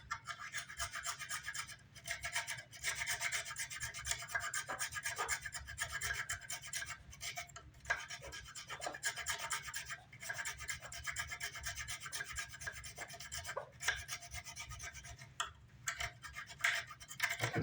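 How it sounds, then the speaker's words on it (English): Rhythmic hand sanding rasps back and forth on a 1969 Gibson SG guitar body, a steady scratchy stroke pattern with brief pauses, close and moderately quiet. "So let's do a little bit of sanding."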